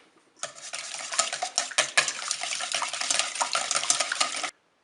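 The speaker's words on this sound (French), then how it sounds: "On va battre les œufs." Eggs are whisked briskly in a bowl, with rapid rhythmic clinking and sloshing close up for about four seconds before stopping abruptly.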